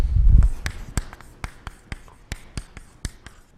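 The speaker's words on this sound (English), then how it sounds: "I'll write that down." Chalk or marker writing on a board during a calculus lecture: a series of sharp, close taps and strokes in an uneven rhythm, about a dozen distinct hits following a brief rustle at the start.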